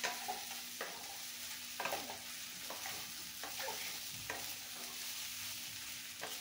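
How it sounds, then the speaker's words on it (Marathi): Soaked puffed rice being stirred and mixed in a pan for a breakfast dish, giving repeated scraping strokes over a steady background sizzle, close and moderately loud with no talking. "हा आता चिरमुरे टाकलेले आहेत भिजवलेली. मिक्स करून घे."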